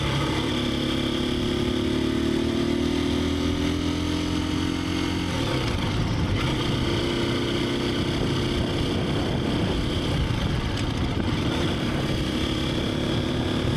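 A Husqvarna FE350S motorcycle engine runs loud and close as the rider shifts up and down through the gears, its droning pitch dipping and rising partway through.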